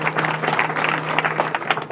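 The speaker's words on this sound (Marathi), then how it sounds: "वाजल्यात एकदा टाळ्या" An audience at a Hindu devotional chanting week gathering claps together, a brief burst of dense, continuous applause close by with a low steady hum underneath.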